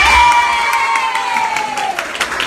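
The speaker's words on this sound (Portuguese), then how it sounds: "E uma salva de palmas também para a comissão técnica da seleção de Monte Santo" Applause and cheering from a crowd for the coaching staff of a women's regional cup-winning team from Monte Santo, a dense steady roar of claps with a tonal whistle-like line over it, loud throughout.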